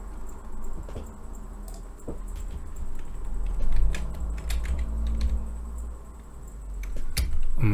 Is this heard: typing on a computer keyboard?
yes